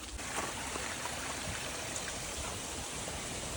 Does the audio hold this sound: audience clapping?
no